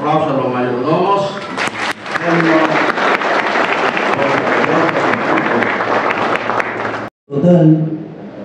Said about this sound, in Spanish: Otro aplauso a los mayordomos.